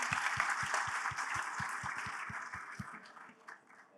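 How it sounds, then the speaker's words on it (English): Applause follows a startup pitch, a small crowd clapping with a steady rhythmic beat in the lower range that softens and thins out after about three seconds. "Can I get a round of applause?"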